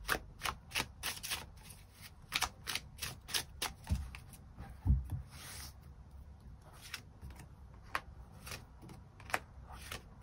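Tarot cards shuffled and drawn during a love reading: a steady run of crisp, close riffling snaps and soft slides, some louder flicks and thumps as cards are set down, with no voices.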